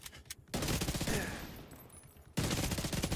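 Rapid automatic gunfire firing incendiary flame rounds in The Division 2 hammers loudly in two bursts, with a short lull between them.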